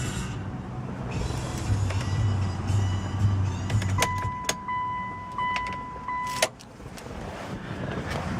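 2007 Mitsubishi Galant 3.8 GTS shut down from inside the car: a low idle drone stops about halfway through, then a steady chime tone sounds under scattered small clicks and a clunk before quiet cabin noise.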